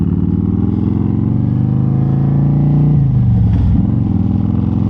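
A cammed and tuned 2025 Harley-Davidson Road Glide engine rumbles loud and close, a deep, throbbing V-twin note that holds steady and then shifts pitch as the revs change near the end.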